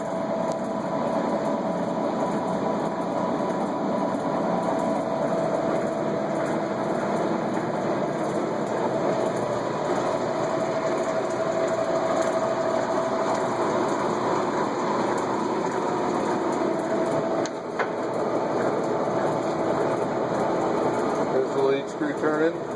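A Monarch 20 x 144 engine lathe runs with its lead screw turning, a steady mechanical whir and hum held throughout, with people talking over it.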